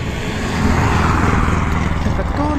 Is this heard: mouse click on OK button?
no